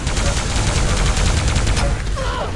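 Rapid weapon fire from plasma guns and a railgun in an arena shooter, a dense, loud stream of overlapping shots with steady rhythmic bursts throughout.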